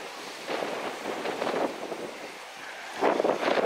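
Gusty outdoor wind buffets the microphone in uneven surges, swelling in two stronger bursts with quieter rushing between, and no talking over it.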